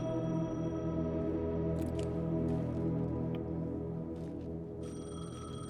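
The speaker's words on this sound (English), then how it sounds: "The payphone was ringing." A payphone rings steadily in the video game Alan Wake 2, fairly faint beneath a humming, droning ambient backdrop, with no talking.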